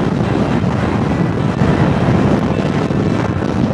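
Strong wind gusts buffet a motorcycle rider on a highway, a loud, continuous roaring rush that fills the whole clip without a break.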